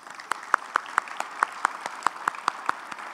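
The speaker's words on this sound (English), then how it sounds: "Let's give them a round of applause." A small audience at a city address gives a sparse round of applause, distinct individual claps in an uneven rhythm, fairly faint and heard without talking.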